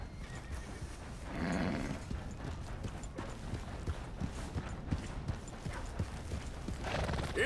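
Horse hooves clip-clop along with a couple of whinnies, set in a busy Red Dead Redemption 2 game soundscape, no talking.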